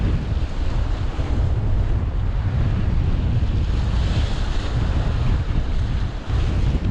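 Steady, loud wind roars across the microphone on an open sea shore during lure fishing for cod, with breaking surf blended into a constant broadband rush that barely lets up for the whole stretch.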